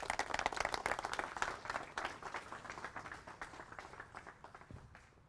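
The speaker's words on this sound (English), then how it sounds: "please give a very big round of applause to Mr. Daniel Hannan." An audience applauds a speaker being introduced at a talk on Magna Carta, a dense burst of clapping that swells briefly and then slowly thins and fades.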